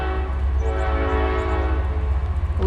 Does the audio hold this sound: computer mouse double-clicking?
no